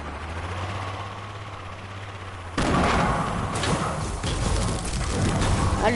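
Loud gunfire bursts in a PS4 shooter game, with a sharp onset partway through and dense blasts over a low rumble, joined by a helicopter-like drone.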